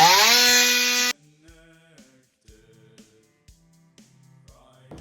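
A cutter goes through a PVC water pipe just behind a shutoff valve. A loud, steady, humming whir stops abruptly after about a second, followed by sparse faint clicks and taps, with no talk.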